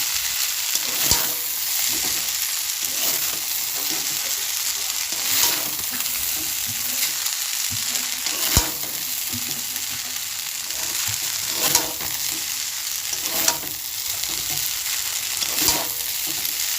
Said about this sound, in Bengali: আমি ভালো করে চাউমিনটা নাড়াচাড়া করে নিচ্ছি খুন্তি দিয়ে, যাতে আলুর মধ্যে মিশে যায়।